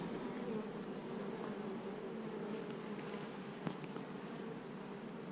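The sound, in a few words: bees buzzing around beehive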